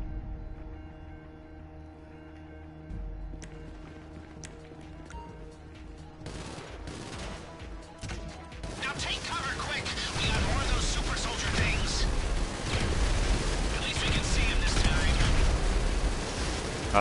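Gunfire bursts and explosions from a hard-mode GTA 5 Doomsday heist final act, starting sparse then building into dense, loud, sustained rapid fire and blasts in the second half.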